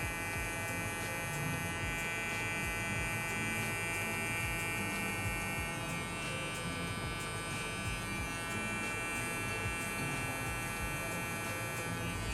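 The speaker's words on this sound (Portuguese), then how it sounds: "É uma máquina de acabamento que eu gosto bastante." A Monster electric finishing trimmer buzzes steadily while cutting and shaping afro hair at a barbershop, its motor hum continuous and close for the whole stretch with no talk over it.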